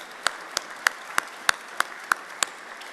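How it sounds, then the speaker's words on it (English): Audience applause at an aquaculture lab grand opening, heard as eight distinct, evenly spaced claps ringing out close and crisp over a quiet background. "Yes, give her another round of applause."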